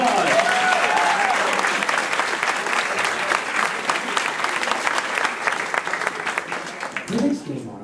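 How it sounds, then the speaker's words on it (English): Audience at an improv comedy show breaks into loud, sustained clapping that holds steady for several seconds, then thins and fades near the end. "give a round of applause"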